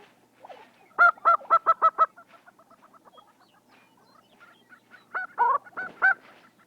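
Lesser prairie chickens call on a springtime dancing ground in shortgrass prairie of the southern Great Plains, giving bursts of rapid honking, clucking notes in two clusters separated by quieter gobbling, close and clear against a silent background.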